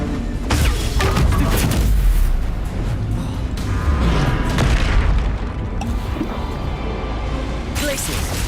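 Bombarda spell blasts in the Hogwarts Legacy video game, heavy booming explosions and crashing combat noise repeating over a dense, loud mix, with a voice talking over the action.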